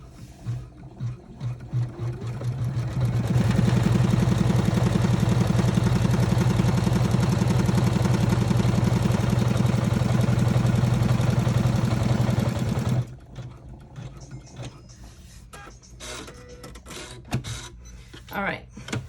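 An embroidery machine stitches a mini wallet in blue thread on a hoop attachment. It runs as a steady, loud mechanical whir for about ten seconds, with quieter handling noise before and after.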